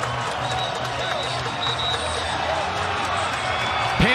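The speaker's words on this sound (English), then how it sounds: "the crowd has woken up" A crowd at a college lacrosse game between Johns Hopkins and Penn State makes steady background roar and cheering, with a broadcast commentator talking over it and a sharp thump at the end.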